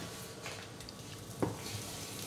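Butter heats in a hot pan before bread croutons go in for a chestnut velouté, making a faint, quiet sizzle with one brief utensil clink midway and no voices.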